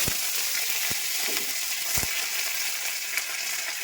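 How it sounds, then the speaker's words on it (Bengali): Mustard seeds and dried chillies fry in hot oil in a wok, making a dense steady sizzle with a few sharp pops and clicks of a spatula, close by with no talking. "কড়াইতে তেল দিচ্ছি কড়াইতে দিয়ে দিচ্ছি সর্ষে আর শুকনো লঙ্কা"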